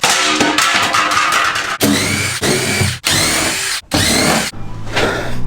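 A power screwdriver whirs in loud bursts of a second or so, removing screws from a small metal trim panel inside a camper van, with short gaps between each run.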